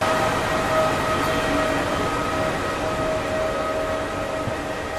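A train pulls into a station with a continuous heavy rumble and a steady high metallic whine, constant and close throughout.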